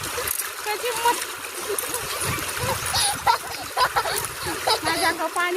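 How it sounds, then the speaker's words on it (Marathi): Water splashes and sloshes in a garden irrigation channel in uneven bursts, close by, while a voice sings or talks over it. "माझ्या अंगावर पाणी उडवती नाला"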